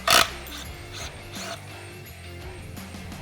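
A 1/2-inch ratchet clicks rapidly as it backs out a motorcycle chain tensioner bolt, the clicks close and crisp after a sharp initial clank, with no talking.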